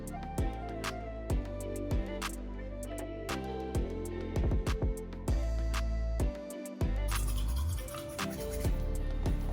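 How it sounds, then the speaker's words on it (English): Close scratchy scrubbing with quick irregular strokes and small taps, like a toothbrush working against teeth, without any talking. "I'm gonna like brush my teeth with some toothpaste."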